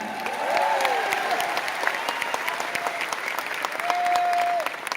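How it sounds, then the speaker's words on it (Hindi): Sustained audience applause during Anupam Kher's speech at the RCM Rupantaran Yatra event in Delhi, a dense, loud crowd clapping that swells and holds steady for several seconds. "इन लोगों की तालियों से इस बात का एहसास होता है कि आपके लिए ये आत्मा से, दिल से ताली मार रहे हैं"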